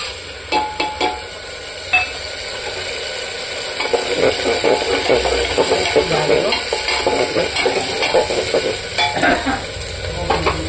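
Ginger, green chilli and cumin paste stirred into browned onions in a pan for a Bengali dal, with steady sizzling and frying under repeated scraping and clinking of a spoon against the pan.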